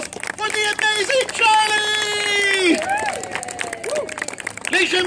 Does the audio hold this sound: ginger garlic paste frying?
no